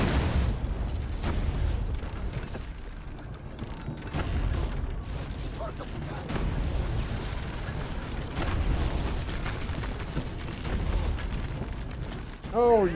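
Leonardo's tank cannon firing in Assassin's Creed Brotherhood: repeated heavy booms and rumbling blasts over several seconds, loud and dense, mixed with battle noise and voices talking.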